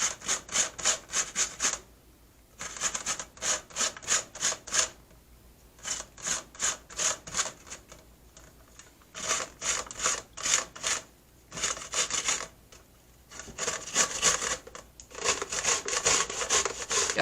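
De-seeded English cucumbers are grated on a hand grater in quick rhythmic bursts of rasping strokes, pausing briefly between sets, close and steady over about seventeen seconds.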